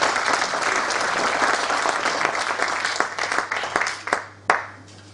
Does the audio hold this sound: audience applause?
yes